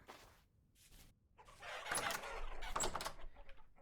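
Chickens cluck and squawk in the survival game Vintage Story, a cluster of short fowl calls rising midway and continuing at moderate volume against a quiet ambient background.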